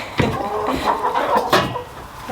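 A breeding rooster being hand-fed on a farm, making a few close, low clucks and throaty calls in short bursts over quiet outdoor background.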